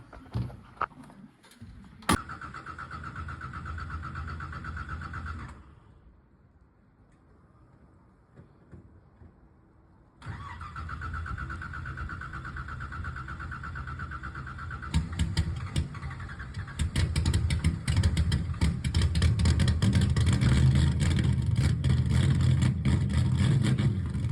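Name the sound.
car engine starting and revving, no mufflers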